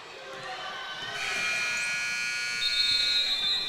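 Buzzer sounding at halftime of a girls' high school basketball game, a steady electronic tone over a noisy gym crowd, fairly faint and distant.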